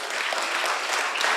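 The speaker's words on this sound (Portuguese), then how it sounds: "Aplauda ao Senhor." Church congregation applauding during a worship service marking Link Church's fifteenth anniversary, a dense, sustained roomful of clapping at steady volume with no voices over it.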